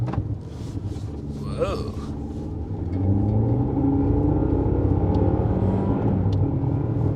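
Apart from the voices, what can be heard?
Honda CR-V Hybrid accelerating from standstill on snowy road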